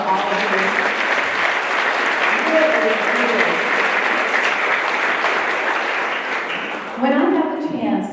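Applause from a room full of guests at a women's business council award luncheon, a dense sustained clapping that fades a little near the end as a voice starts to speak over it.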